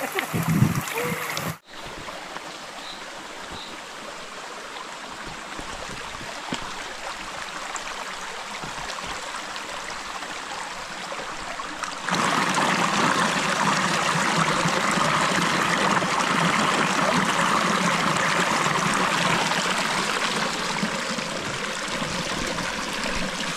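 A waterfall and flowing stream rush steadily nearby, a broad continuous roar that swells louder partway through after a brief bump, with no clear talk over it.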